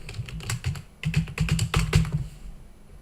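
Keys clatter on a computer keyboard in quick irregular bursts as an email address and password are typed, close and clear, then the tapping stops near the end.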